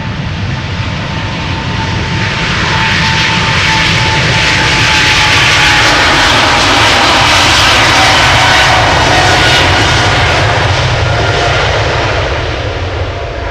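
A KLM Boeing 777-300 jet departs Amsterdam Schiphol for San Francisco. A loud, continuous engine roar rises slightly and holds steady throughout, with no voices.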